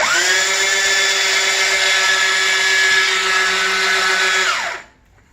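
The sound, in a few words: chain gun firing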